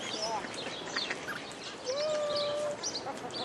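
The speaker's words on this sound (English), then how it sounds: "You're such a pretty bird." A pet bird on the Great Ocean Road gives several short chirps and one longer rising whistle, faint against a noisy outdoor background.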